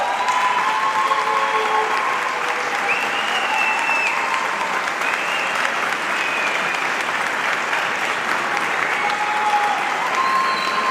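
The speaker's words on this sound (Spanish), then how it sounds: "que le vamos a dar un gran aplauso" An audience at a book presentation for author Santiago Allende at a football club applauds, giving steady, dense clapping that holds at an even level throughout, with a few faint voices and whistles mixed in.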